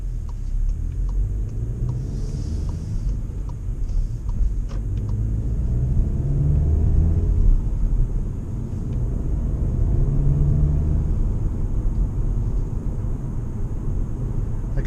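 A manual-transmission car drives steadily and turns left onto a road, its engine a low, continuous rumble heard from inside the cabin at low revs.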